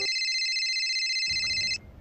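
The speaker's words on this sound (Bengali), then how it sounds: "এই সময় আবার ফোন দেয় কারা?" A mobile phone ringtone plays loud and close, with steady electronic tones sounding continuously before cutting off, leaving low room noise behind.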